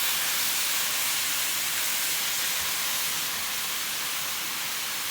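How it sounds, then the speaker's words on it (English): Ground beef simmering and browning in a pan on medium-low heat for chili, a steady, even sizzling hiss that stays loud and unbroken throughout. "I'm just going to cut this ground beef down on medium low and just let it simmer until it gets good and brown"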